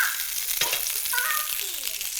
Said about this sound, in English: Now we're melting 2 tablespoons of butter in our 12-inch skillet.